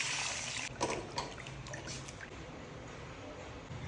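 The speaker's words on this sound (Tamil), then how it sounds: "ஒரு லிட்டர் தண்ணி ஊற்றிக்கலாம்" A steady stream of water pours and splashes continuously into a cooking pot at close range, with some faint clattering near the start.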